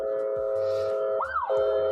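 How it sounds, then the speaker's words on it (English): An emergency vehicle siren wails near the train derailment fire in East Palestine, Ohio. A loud, steady electronic tone with one quick rising-and-falling sweep sits over a low rumbling background. "There's some sirens everywhere around here"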